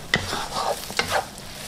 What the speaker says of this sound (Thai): ช่วงนี้ผัดไปเรื่อยๆนะคะจนกว่าเส้นจันทร์ของเราเนี่ยจะสุกนิ่ม